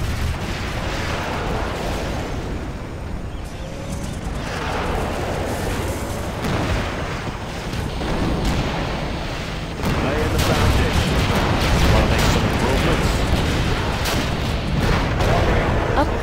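Tomahawk cruise missile launches and explosions in the End Of Days mod video game, a dense continuous roar of booms and blasts, loud and close, growing heavier partway through, with no talk.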